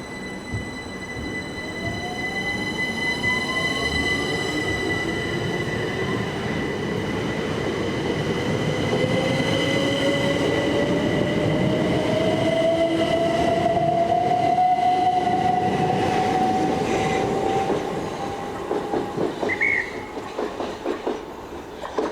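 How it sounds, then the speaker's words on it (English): A Class 375 electric multiple unit pulls into the platform at Paddock Wood station, loud and close, with a steady rumble, rising wheel and motor whine and squealing brakes as it slows to a stop, then clicking noises near the end. "you'll go out onto the platform as a 375 unit arrives"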